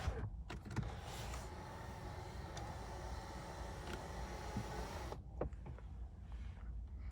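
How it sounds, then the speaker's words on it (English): A Mercedes-Benz S 580 rear window shade lowers with a steady, close electric motor whine that runs for about five seconds and then stops, with small mechanical clicks at the start and end. "Put the back shade down."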